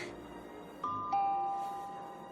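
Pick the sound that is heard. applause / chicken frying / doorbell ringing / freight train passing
doorbell ringing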